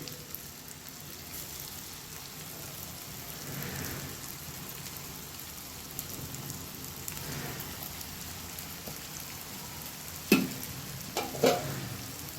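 Corn cheese balls fry in hot oil with a steady, quiet crackling sizzle, joined near the end by a few sharper spatters and pops close by.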